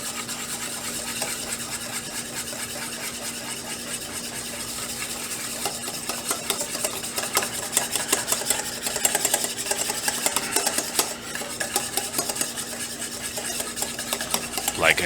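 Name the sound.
stirring butter into sauce, bit by bit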